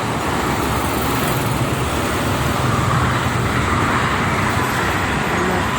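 Dense road traffic with cargo trucks on the Jakarta-Cikampek toll road, a steady loud roar of passing engines and tires, continuous without breaks, no voices.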